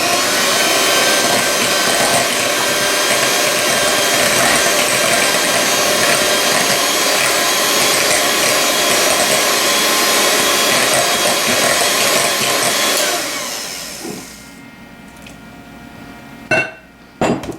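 An electric mixer beats sweet potato pie filling for a Southern-style pie, a loud, steady whirring drone that runs for about thirteen seconds, then cuts off, followed by a few faint clinks and knocks.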